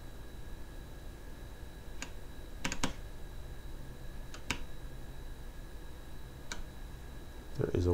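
Buttons on a speed editor keyboard click in a handful of sharp, isolated taps, with a quick double click among them, over a quiet background hum.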